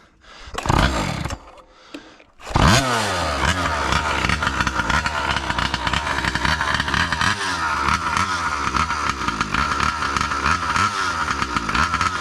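A 47cc gas engine on an RC truck coughs and sputters through a few pull-start attempts, then catches and revs loudly, buzzing and whining at high pitch.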